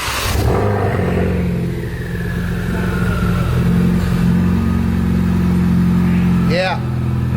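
A Ford Focus RS with its muffler removed idles with a loud, throaty rumble that swells as the engine revs, while people talk over it.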